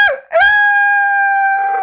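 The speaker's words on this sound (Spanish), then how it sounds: "Yo le escuché, pastor, cuando el gallo cantó" A rooster crows once, loud and close, a sustained harmonic call held steady after a short rising start, with no other sounds around it.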